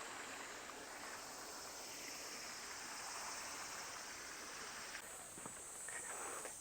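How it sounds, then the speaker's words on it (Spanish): A small waterfall feeds a koi pond in a Japanese garden in Gunma, giving a soft, continuous rushing splash that stays quiet and steady throughout, with no voices. "Y aquí hay una pequeña cascada que le da el agua."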